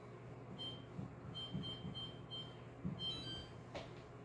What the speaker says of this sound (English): Going to set the timer, in this case, for about 45 minutes.